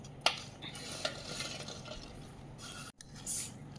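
Spices such as mustard powder and turmeric being stirred into a chili-paste pickle mixture for jujube fruit, with soft scraping and clinking of a utensil against a bowl, a few sharper taps, no talking.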